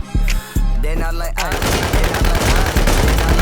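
Gunfire in the video game Infestation: after a brief tonal sound, loud rapid automatic shots crackle in dense continuous bursts for about two seconds.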